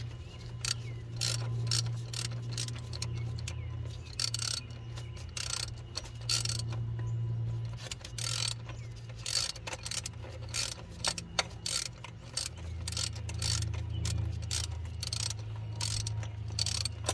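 A swivel socket ratchet turns out a 12mm bolt on a Honda Accord 2.4L during starter replacement, giving a steady run of close, quick metallic clicks that pause briefly and then resume, with a low hum underneath and no talking.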